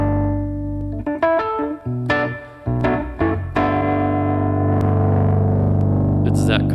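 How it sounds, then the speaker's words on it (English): Rhodes electric piano with overdrive cranked up, playing a few chords and single notes that sustain into a warm, gritty, distorted tone; moderately loud and alone, ending with a faint click. "just something that I like to add to give a little bit more overdrive to my like Rhodes and stuff"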